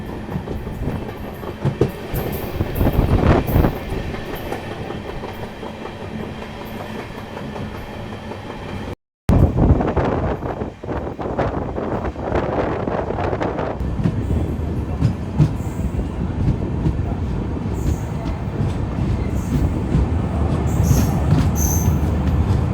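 A train crosses the new Pamban Bridge toward Rameswaram with a steady, loud rolling rumble, rhythmic clickety-clack of wheels over rail joints and bursts of wheel squeal, broken by one brief dropout partway through.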